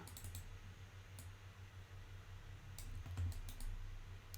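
A computer mouse clicks sharply while modelling eyes in Maya, the scattered quick clicks and a few pairs sounding over a low steady computer hum.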